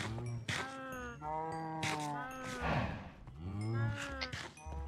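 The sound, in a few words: cows mooing on a cow farm in the video game Minecraft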